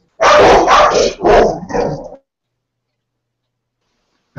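A dog barks several times in a quick close burst with rough growling edges, loud and alone, then goes silent for the rest of the moment.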